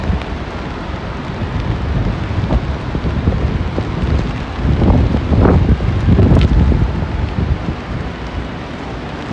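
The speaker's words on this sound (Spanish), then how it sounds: "La lluvia sigue fuerte." Steady hiss of heavy rain outdoors at the New York Thanksgiving Day Parade, with gusty wind buffeting the microphone, loud and continuous, with low rumbling surges.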